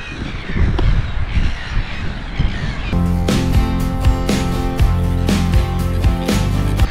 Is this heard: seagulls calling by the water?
yes